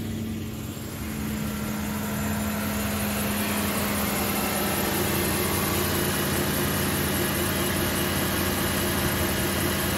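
A classic car engine idles smoothly and steadily at close range, with a continuous low hum and a faint burble, and no one talks over it.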